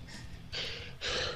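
A person sneezes during a voice-chat session of a Smite game on PS4: two sharp, breathy bursts about half a second apart, close to the microphone, over low background hum.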